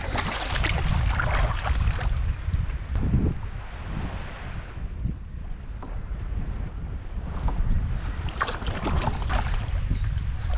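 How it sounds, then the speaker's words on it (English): Steady wind roars across an open microphone on a kayak near the shore, buffeting loudly with gusty surges throughout, and faint water sounds underneath. "It's actually quite windy"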